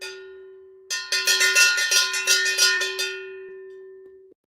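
A bell sound effect rings as a rapid flurry of bright metallic strikes over a sustained tone, loud and close, running a few seconds before cutting off abruptly.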